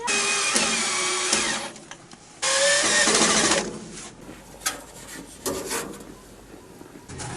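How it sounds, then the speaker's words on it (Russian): Screws being driven into wood while building a fishing spear, with bursts of high, whirring screwdriver or drill noise and grinding bites into the timber, separated by quieter handling clatter. "Дальше закрепляем шурупами."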